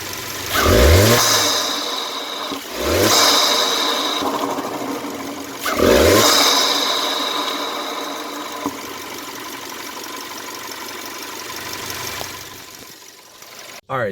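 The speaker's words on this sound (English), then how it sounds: "just is the most ridiculous sounding blow-off valve sound you'll ever hear" A 2018 VW Passat 2.0T with its air filter removed revs three times, each rev ending in a loud, sharp blow-off valve whoosh up close, then settles into a steady idle.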